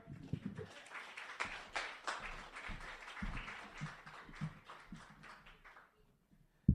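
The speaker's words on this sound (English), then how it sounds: "Give her a big round of applause" Audience at a poetry slam applauds a poet with a burst of clapping that gradually thins out and fades to near quiet.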